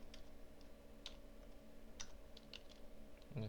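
Faint, sparse keystrokes on a computer keyboard, a few isolated clicks over a low steady background hum, no voices.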